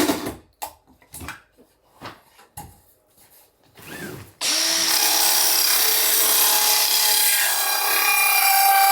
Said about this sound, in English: Now I can screw this into place, knowing that this is holding it exactly where I want it.